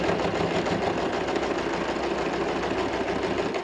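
A sewing machine stitches along the edge of a fabric bag, a steady, close mechanical whirring hum with rapid needle chatter running unbroken throughout.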